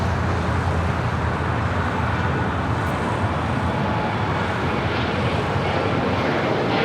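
An airliner bound for Austin rolls for takeoff on runway 25 right at LAX. Its jet engines make a loud, continuous roar that stays steady throughout, with a faint hum of road traffic mixed in.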